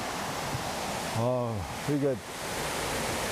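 Yongchu Falls, the first waterfall in Juwangsan National Park, pours down in a constant full rushing roar throughout, while someone briefly speaks over it.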